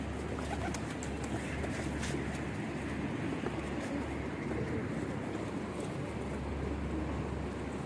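Pigeons caught on a rooftop, soft low cooing running steadily through the whole stretch over a constant background hum, with no talking.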